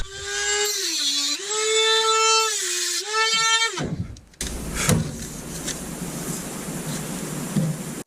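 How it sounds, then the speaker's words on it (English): A Dremel rotary tool cuts plastic dash trim in a Jeep Grand Cherokee WJ with a loud, close whine that wavers in pitch for several seconds. It then stops abruptly, leaving rough scraping and clattering handling noise. "I think I'm just gonna try to use a Dremel to cut these wells off"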